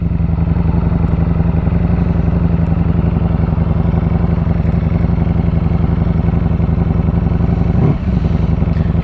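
Ducati Streetfighter V4S motorcycle engine running steadily while being ridden, a loud continuous mid-pitched drone with a brief dip near the end, no talking.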